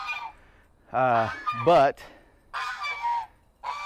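Farmyard fowl honking loudly at close range near a backyard chicken setup, several harsh, nasal calls in two short bursts with brief pauses, and a single spoken word slipped in between.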